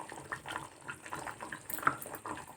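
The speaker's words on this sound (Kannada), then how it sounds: "ಈ ಸ್ಟೇಜಲ್ಲಿ ನಾನು ಸ್ವಲ್ಪ ಹುಣಸೆಹಣ್ಣು ರಸನ ನಾನು ಸ್ವಲ್ಪ ಹಾಕ್ತಾಯಿದ್ದೀನಿ" Tamarind juice poured into boiling okra gojju: a soft, steady liquid pour and bubbling simmer heard up close, fairly quiet and continuous, without talking.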